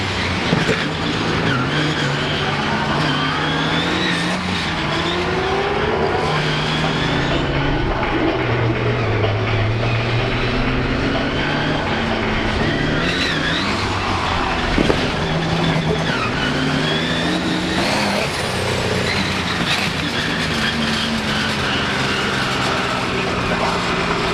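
A 4x4 truck runs an obstacle course at the Fall 4-Wheel Jamboree Nationals in Indianapolis, its loud engine roaring and revving steadily throughout with rising and falling pitch, alongside tire noise and a dense background of crowd and ambient sound.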